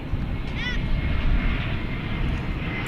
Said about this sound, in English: We're about to see American Flight 3193, which is coming to us from Phoenix, Arizona. This will be an Airbus A321.